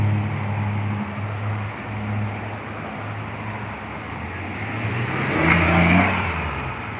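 Cars on a New York street rumble past with a steady engine hum. One vehicle swells louder as it passes close near the end, and no one speaks over the traffic.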